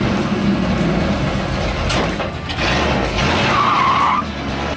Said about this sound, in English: What you hear there is the car stall out and refire in